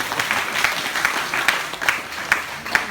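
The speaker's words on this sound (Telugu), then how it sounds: "క్లాప్స్ కొట్రా." A small group claps together in a slow, steady rhythm, about two claps per second, each one a distinct sharp crack over quiet room tone.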